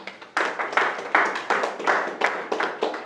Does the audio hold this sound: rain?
no